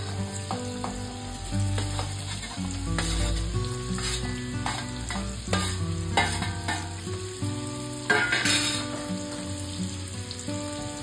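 Chopped snake gourd frying in hot oil with mustard seeds, asafoetida and turmeric in a wok, a continuous crackling sizzle running under steady background music throughout.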